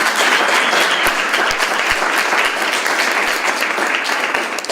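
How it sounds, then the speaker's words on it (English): Enthusiastic applause from a university lecture audience thanking a professor, loud and close, a thick continuous patter with a few sharp individual claps standing out, tapering slightly at the end. "Can we just give him another round of applause?"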